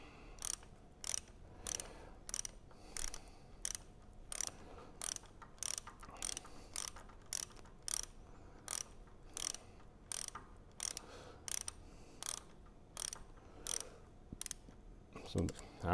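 A bolt tightened on a Vilter VSS slide valve assembly with a ratchet wrench, a long series of evenly spaced clicking strokes at close range, steady throughout.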